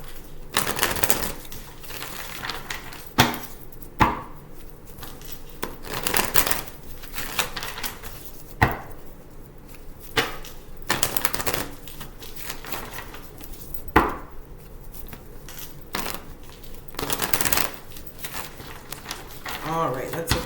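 Repeated riffling and slapping bursts as a tarot deck is shuffled by hand, close and fairly loud, in an irregular rhythm of about a dozen bursts with brief gaps.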